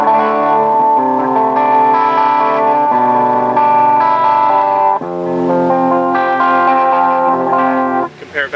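Electric guitar played through the clean channel of a Krank amplifier at a NAMM 2009 booth, sustained chords with a chorus-like shimmer and echo ringing loudly and continuously, changing once midway and ending with short picked notes.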